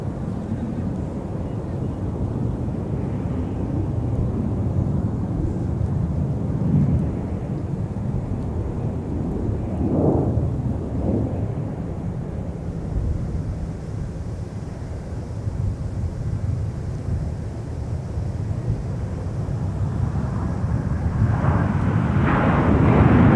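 Jet airliner arriving at Minneapolis–St. Paul airport, a steady low roar building and swelling as it approaches, wind buffeting the microphone, growing louder toward the end.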